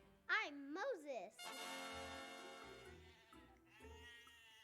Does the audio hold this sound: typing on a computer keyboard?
no